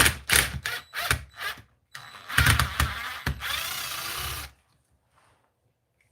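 A cordless impact driver hammers in rapid bursts while the top piece of an Arrma Kraton 6S V4 RC car is removed, with short stop-start rattling runs, a longer steady buzz, then quiet.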